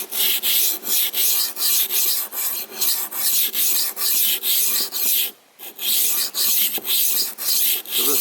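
A tumbler sharpener set at 20 degrees grinds a rusty old knife, a loud close rasping scrape repeating in steady strokes with one brief pause, no talking.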